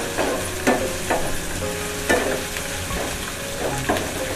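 Fried fish pieces drop into a pan of hot tempered gravy and get stirred, a steady sizzle broken by several scraping spoon strokes at irregular intervals, close and fairly loud with no voices.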